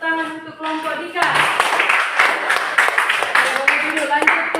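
Classroom applause for a pupil group named Dika, a crowd of young students clapping steadily and fairly close, following a brief teacher's voice at the start, with voices mixed in under the clapping.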